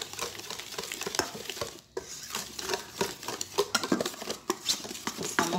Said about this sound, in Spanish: Vamos a seguir batiendo.